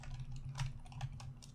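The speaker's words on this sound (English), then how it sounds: "typing furiously" Rapid keystrokes on a computer keyboard, quiet and close, a quick irregular patter of taps over a low steady hum.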